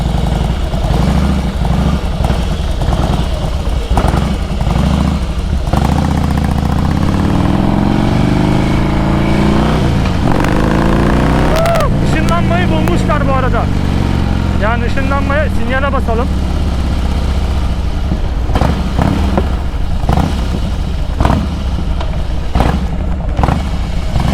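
A 1700 cc Harley-Davidson Heritage motorcycle engine drones steadily throughout while riding, loud and close, with a few revving swells in the middle while people talk over it.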